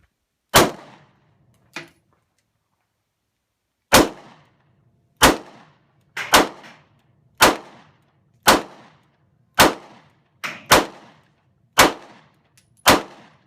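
A SCCY CPX-2 9mm pistol firing Privi Partisan 115 grain ammunition: about a dozen loud, sharp shots, near and isolated, spaced roughly a second apart with short pauses and a quick double, each ringing briefly.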